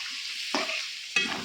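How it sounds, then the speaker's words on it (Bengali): A spoon stirs biryani rice and meat in a pot, two distinct scraping strokes about half a second apart over a soft background sizzle. "তো এটা এখানে একটু নাড়বো"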